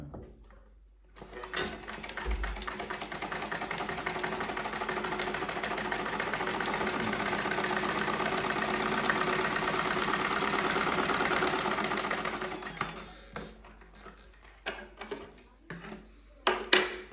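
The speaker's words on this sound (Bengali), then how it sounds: "আবার দিলাম সেলাই" A sewing machine stitching continuously for about eleven seconds with a fast, even mechanical rattle, close and fairly loud, then stopping and leaving handling clicks and knocks.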